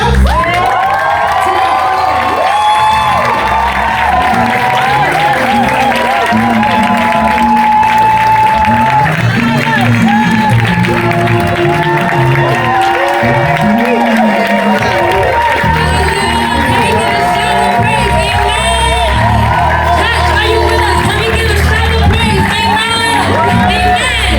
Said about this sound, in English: So I need us to give them the loudest cheer as we welcome the Success Choir.